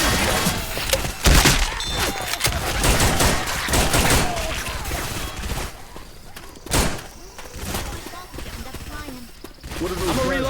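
Gunfire and grenade launcher blasts from the zombie shooter game Left 4 Dead 2, a chaotic run of loud shots, thuds and explosions with some crashing impacts mixed in, fairly close and dense.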